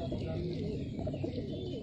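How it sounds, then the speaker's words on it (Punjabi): A female pigeon with full round ring markings cooing in low, throaty bursts close by, with faint voices murmuring in the background. "ਫੁੱਲ ਗੋਲ ਚੱਕਰਾਂ ਵਾਲੀ ਕਬੂਤਰੀ ਆ"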